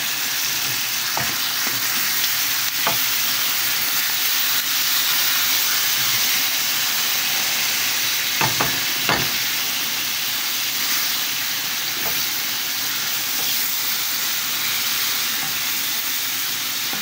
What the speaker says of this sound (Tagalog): habang niluluto natin yung ating giniling